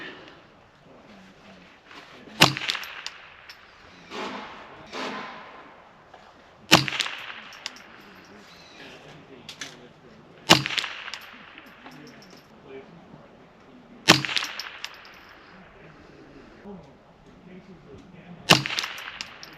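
Five sharp .22LR shots from a Ruger 10/22 rifle with a 24-inch Green Mountain barrel, spaced roughly four seconds apart at an outdoor range, with faint background noise between each crack.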